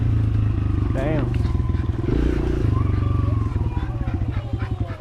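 Kawasaki KLX dirt bike engines rev and drone continuously during a race, with shifting pitch and a bumpy, revving texture, as someone talks over the engine noise throughout.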